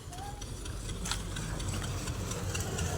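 A low, steady tractor engine idles with a constant throbbing chug, fairly quiet and unchanging throughout.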